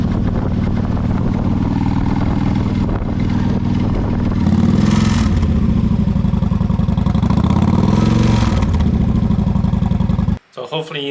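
A Honda Shadow VT1100 motorcycle with a broken exhaust idles with a rough, clattery thrum, revs up twice, then cuts off abruptly near the end.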